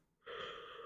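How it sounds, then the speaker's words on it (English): A single short breathy yawn-like intake of air, close and faint, starting abruptly after a brief silence and holding steady for under a second. "Yawning is very, very painful for me."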